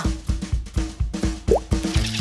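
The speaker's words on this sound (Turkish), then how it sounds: "Brumi baloncukları ekskavatörüyle patlatıyor." Cartoon bubbles popped by a toy excavator on a construction site, a quick series of about ten loud, wet plops in a steady rhythm, with a brief rising squeak near the middle.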